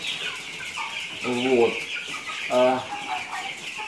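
Broiler chickens cluck inside a poultry house, two short bursts of clucking over a steady ventilation hum, with brief speech nearby.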